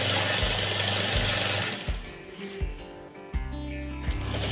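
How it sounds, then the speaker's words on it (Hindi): A sewing machine stitches along a fabric edge while making a shirt, running in a steady, fast mechanical whir broken by short pauses and restarts. "कपड़े की किनार पे लगेगी ये वाली सिलाई"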